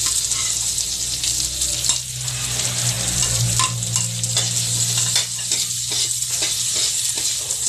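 Onion and ginger sizzle in a pan for paksiw sa gata, a continuous, close frying hiss with occasional stirring clinks, heard alone without speech.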